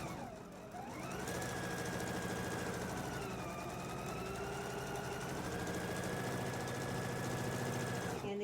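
A sewing machine stitches fabric in a steady, moderately loud hum after a brief start, its motor pitch dipping and rising slightly as it runs continuously.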